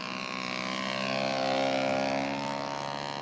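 Propeller engine of a scale model SNJ airplane droning steadily as it passes during an overshoot at a scale aircraft show, with a tonal buzz that swells louder midway and then eases slightly.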